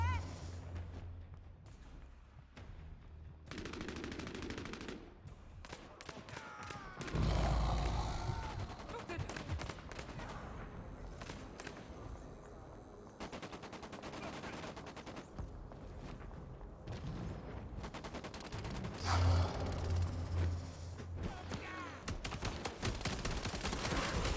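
Ongoing gunfire during a Bloodhunt match, dense crackling shots and heavier bursts layered under background music and game sounds for most of the stretch, with players talking over it.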